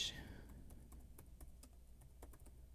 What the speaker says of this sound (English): Oops, I'm typing on the wrong page here.